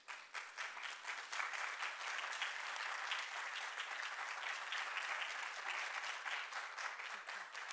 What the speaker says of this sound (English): please rise so we can welcome you with a round of applause